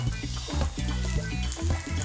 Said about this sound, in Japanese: 火を止めても5分以上経つと思うんですけど、まだずーっとジュージュー言ってるんですよ